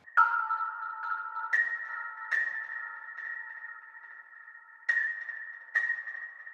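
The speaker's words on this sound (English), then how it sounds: "So I went to this marimba." A stock Ableton marimba plays a sparse melody of soft struck notes, about five distinct hits with ringing tails and long gaps between them, clean and quiet with no other sound.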